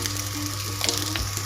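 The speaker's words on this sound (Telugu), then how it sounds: "పోపు అయితే రెడీ అయిపోయింది కదండి." A spiced tempering of chilli powder and garam masala fries in a pan for a potato kurma pachipulusu, giving a steady close sizzle with a few brief stirring clinks and no voices.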